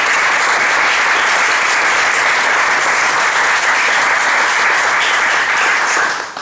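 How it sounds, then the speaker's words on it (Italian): Loud, sustained audience applause fills a hall during a ceremony for the Italian deaf women's national basketball team, a dense even wash of clapping that holds steady before tapering at the very end. "vi prego di fare un applauso"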